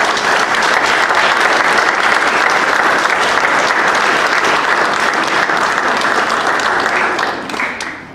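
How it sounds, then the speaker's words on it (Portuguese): Loud, dense applause from a large audience at a sports club's 68th anniversary celebration, sustained steadily for about seven seconds before tapering off at the end. "a quem peço uma salva de palmas"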